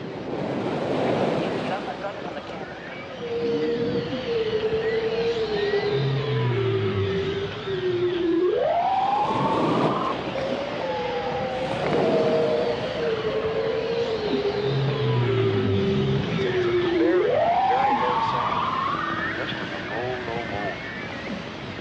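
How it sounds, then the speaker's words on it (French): Right whale vocalizing at sea, a low tonal moan that rises and falls in two long upswept calls over a constant wash of waves and wind noise. "Le grognement très bas de la baleine franche nous surprit quelque peu"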